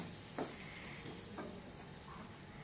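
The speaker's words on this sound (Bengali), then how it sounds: "এখানে আমি চিকেনটাও রান্না বসিয়ে দিয়েছি। চিকেনও রান্না হচ্ছে" Chicken cooking in a home kitchen pan, a soft steady sizzle with a couple of faint stirring clinks, quiet and close.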